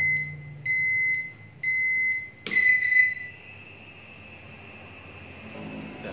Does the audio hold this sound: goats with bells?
no